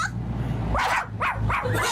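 A woman imitates a small dog with three quick, yappy bark-like yelps in a row, loud and close, over a steady low background hum.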